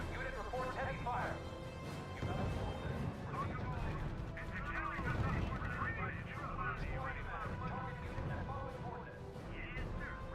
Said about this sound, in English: Enemy artillery is pounding us from the beach, sir.